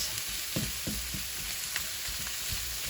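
Shrimp frying in a hot pan with ginger and garlic for a snow pea stir fry, giving a steady close sizzle broken by a few soft stirring knocks.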